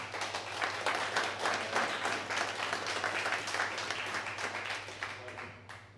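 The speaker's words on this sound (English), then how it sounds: "please give Graham a big round of applause" An audience at an evening meetup talk applauds the speaker, with steady, moderately distant clapping and a low hum beneath it that tapers off at the end.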